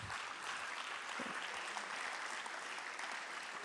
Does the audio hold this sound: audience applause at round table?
yes